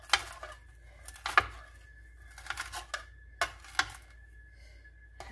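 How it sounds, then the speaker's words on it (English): A knife roughly chops fresh cilantro on a cutting board in a home kitchen, giving a few quiet, irregular clusters of sharp taps spread over several seconds, close and without talk. "I have some cilantro right here that I'm just going to cut up real quick."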